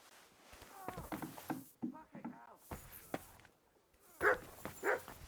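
A dog barks in the medieval video game Kingdom Come Deliverance 2, with two sharp, louder barks near the end following quieter yips and rustling, with speech-like voices in the mix.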